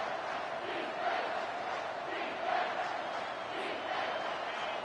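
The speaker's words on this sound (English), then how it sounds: "Here comes this home crowd as the defense tries to get off the field on 3rd down." A home crowd at a college football game, Oregon Ducks versus Colorado, roars steadily in a dense, sustained wash of cheering from a large stadium, with no one speaking over it.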